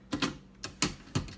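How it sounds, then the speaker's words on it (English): Backspace key on a 1951 Erika Model 8 typewriter, pressed repeatedly to give four sharp mechanical clacks with short metallic rattles, spaced unevenly over little more than a second, close and alone. "So this is the backspace key."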